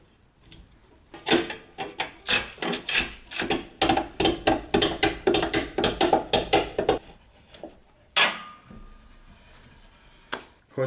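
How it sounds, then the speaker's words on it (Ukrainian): A ratchet wrench loosens 21 mm wheel bolts on a Toyota Prius, giving rapid, regular mechanical clicking bursts for several seconds, then a pause and a few separate louder clicks, close by with no talk. "Так, болти тут у нас на 21, як оказалось. Так що ослаблюю колесо."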